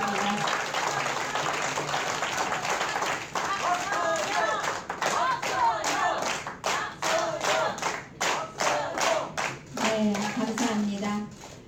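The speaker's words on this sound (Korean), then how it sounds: "또 응원의 박수 부탁드리겠습니다." An audience at a Seoul education superintendent candidate's press conference claps in encouragement, a dense round of applause with voices and chatter mixed in, thinning into scattered claps toward the end.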